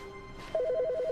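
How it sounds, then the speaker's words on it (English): A telephone in The Stanley Parable rings with a rapid electronic warble, a quick alternating two-tone trill starting abruptly after a brief quiet hum and continuing clearly to the end. "Phone ringing."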